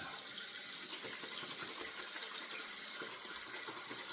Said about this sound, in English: Put some more water in the bowl here. Swish it up.